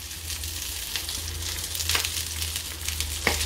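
Sausages for currywurst fry in a pan with a continuous crackling sizzle, close and steady, broken by a couple of sharp pops as the casings burst.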